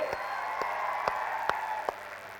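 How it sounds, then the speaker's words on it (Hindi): An audience at a national conference in Bhopal claps, a broad wash of applause with a few distinct louder claps standing out at a steady pace. "एक बार अपने लिए तालियां बजाइए जम के"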